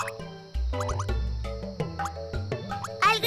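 A cartoon frog croaks in a children's animated show, giving several short, bouncy croaks and plops over light background music, close and clear.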